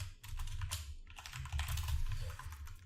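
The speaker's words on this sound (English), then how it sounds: "I'm just going to type these out here and you can copy them over." Steady computer keyboard typing during a coding session, close and continuous, with dense rapid key clicks and a brief pause near the middle, no talking.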